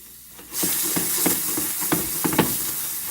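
Finely cut onions frying in a pan, a steady close sizzle that starts abruptly after a brief quiet moment, with small stirring knocks and crackles over the hiss.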